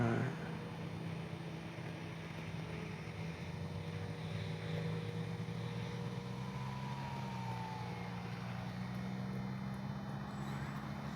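An E-flite 1100mm P-51 radio-controlled warbird makes a touch-and-go, its electric motor a steady, sustained drone at moderate distance with a slight pitch sweep.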